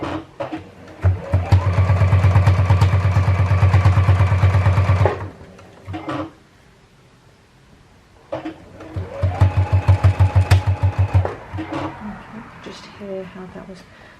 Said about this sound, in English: we are going to stitch down to rejoin our original start line